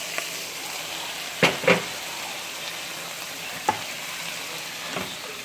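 Peppers, onions, broccoli and carrots stir-frying for a shrimp stir fry, a steady loud sizzle broken by a few sharp clacks and scrapes of a utensil against the pan.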